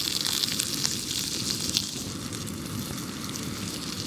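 Steaks sizzle loudly in burning butter in a pan, a steady crackling hiss that holds for the whole stretch with small spitting pops on top.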